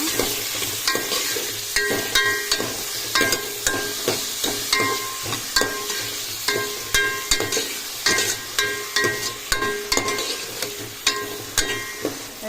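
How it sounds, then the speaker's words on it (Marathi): Onions frying in a pan for a Goan mushroom curry sizzle continuously while a spoon scrapes and knocks against the pan in a regular rhythm, close and fairly loud, with no one talking. "कांदो बरो फ्राय करपाचो."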